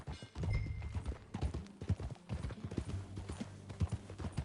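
Horse hooves clip-clop in a steady, brisk rhythm on hard ground, fairly close and continuous, in the video game Red Dead Redemption 2.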